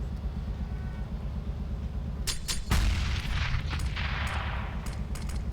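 Frag grenade blasts and gunfire from a competitive Counter-Strike match on the map Train erupt after a quiet stretch, with several sharp bursts and one heavy booming detonation followed by scattered shots.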